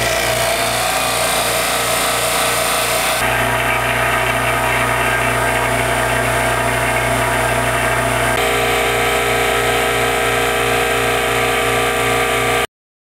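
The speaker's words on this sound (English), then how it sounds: "First up is going to be our standard pump." Harvest Right freeze dryer standard vacuum pump runs with a loud, steady mechanical drone and hum, close up and continuous, shifting slightly in tone partway through before stopping abruptly.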